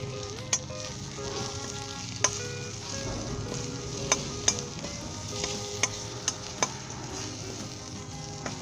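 Whole spices (black pepper and cloves) fry in hot oil with a steady close sizzle, broken by sharp pops and crackles at irregular moments.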